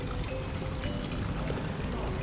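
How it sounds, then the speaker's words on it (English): Hotel water fountains splash steadily beside a shaded sculpted staircase at the Grand Inna Kuta, a continuous close wash of falling water with no talk over it. "And have a look at these water fountains."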